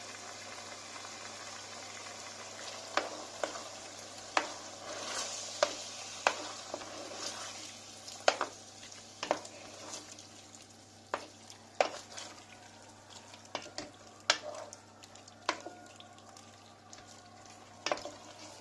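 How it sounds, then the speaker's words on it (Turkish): Yogurt curry sauce with cream simmers in a pot, a low steady bubbling hiss broken by frequent soft pops and stirring taps, close and fairly quiet, with no speech. "Ve 1-2 dakika kremayla da kaynatıyoruz."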